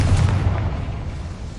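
A Confringo blasting spell detonates in Hogwarts Legacy, one heavy, close boom that fades over a second or so, with no talk.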